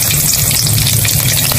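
Bay leaf, dry red chilli and garam masala hit hot oil in a wok for a Bengali country-chicken curry, making a loud, continuous close sizzle with no talk.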